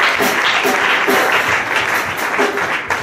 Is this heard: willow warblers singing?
no